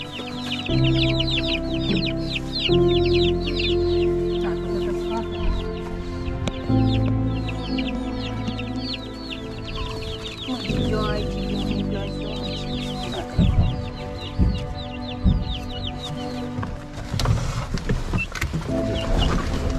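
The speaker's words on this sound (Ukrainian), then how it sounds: "Веземо і курей, курчати, качок." A flock of chickens clucks and squawks continuously nearby during an evacuation from the Avdiivka front line in Ukraine, with a low mechanical hum underneath and a few knocks and thumps toward the end.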